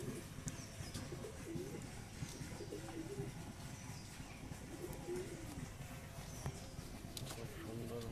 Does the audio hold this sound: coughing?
no